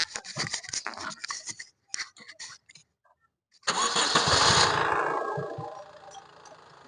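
A 2015 Honda Mobilio diesel seven-seater cranks and starts after a few seconds of scattered handling noises, then settles into a loud, steady diesel running note that quiets somewhat toward the end.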